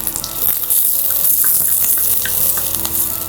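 Garlic, chillies and small onions sauté in a hot pan, a steady loud sizzle and crackle of frying with faint stirring clinks throughout.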